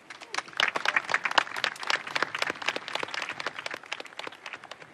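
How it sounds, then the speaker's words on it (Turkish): Dense audience applause at a company ceremony, many hands clapping in a steady rapid patter that stays strong throughout. "Alkış lütfen."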